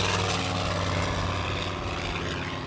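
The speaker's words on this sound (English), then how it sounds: "Here comes Danny McHugh on his takeoff roll." A Russian Yak-11 propeller airplane rolls down the runway for takeoff, its piston engine and propeller giving a loud, steady, rough drone that stays close throughout.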